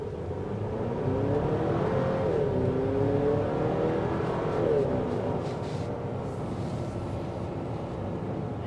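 A 2025 Buick Enclave ST, a turbocharged four-cylinder SUV, accelerating hard with a steady rising engine drone that climbs, shifts and climbs again, heard from inside the cabin at moderate volume.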